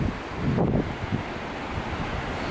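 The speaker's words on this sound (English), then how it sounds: "Got the fans turning because it's windy out here." Wind gusting outdoors at an oceanfront mansion, a brief rough rush of buffeting noise against the microphone, loudest early and then settling into a steady hiss.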